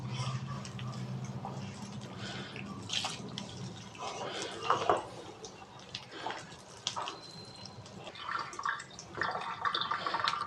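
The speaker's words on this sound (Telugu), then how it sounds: "కొంచెం కొంచెం వాటర్ యాడ్ చేసుకుంటా కలుపుకోవాలి" Water trickles and splashes in short bursts while batter for crispy baby corn is stirred, with soft clinks and a low background hum throughout.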